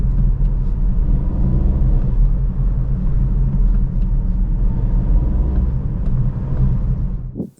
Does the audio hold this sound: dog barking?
no